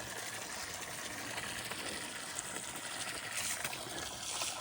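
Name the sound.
water trickling into a filling tank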